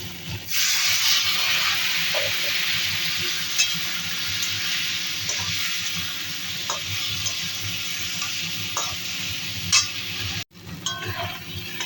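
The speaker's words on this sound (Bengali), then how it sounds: "মশলাটা ভাজা ভাজা হয়ে গেছে" Spice masala with turmeric and ground cumin sizzling loudly in a pan for fish curry while being stirred, a steady close frying hiss with occasional scrapes and clinks of the spoon.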